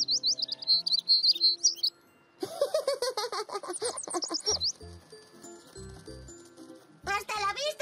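A cartoon chick in the animated series Zou gives quick bright chirps for about two seconds, followed by character voices and playful music-like tones.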